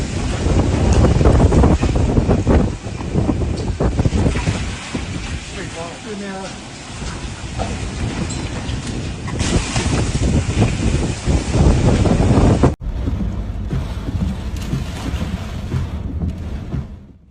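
Strong typhoon winds from Typhoon Dolphin batter a Chinese city, a loud, constant roar of wind buffeting the microphone with surges and gusts throughout, and a brief cut partway through.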